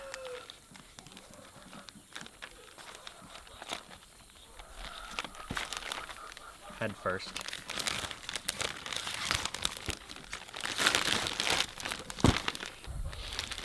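Loose plastic bag crinkling and rustling as a butchered chicken is put inside, building in intensity with busy handling noises, while a voice speaks briefly near the start.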